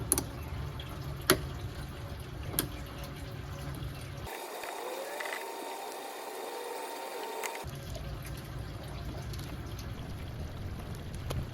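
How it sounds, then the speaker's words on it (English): Coolant drains from the radiator of a 1992 Honda Civic into a bucket, a steady close trickle and splash lasting several seconds, with a few faint ticks at the start. "I'm going to drain this. I'm going to put it into a bucket"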